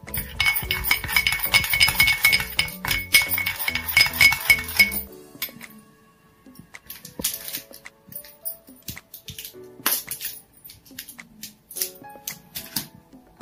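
A spoon stirs a besan face pack in a bowl, making rapid clinking and scraping taps against the sides for about five seconds, then scattered softer clicks and knocks.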